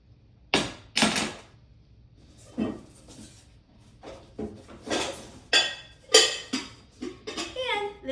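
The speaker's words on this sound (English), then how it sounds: "So I have a little square glass dish that I love to use for this purpose." A small square glass dish handled in a kitchen, several close, sharp clinks and knocks of glass against hard surfaces at irregular intervals, fairly quiet.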